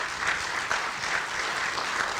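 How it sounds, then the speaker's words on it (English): An audience at a fitness center applauds in a dense, even patter of clapping that lasts a couple of seconds at moderate loudness, with no talk over it. "Yeah, you can give it applause."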